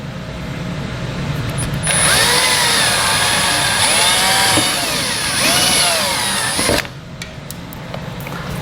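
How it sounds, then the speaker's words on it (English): A power drill with a 3/16-inch bit drills out the centers of rivets while installing a Blue Ox base plate on a 2020 Jeep Grand Cherokee, running as one loud, close, steady whine for about five seconds with no talk. "We're just going to drill out the center,"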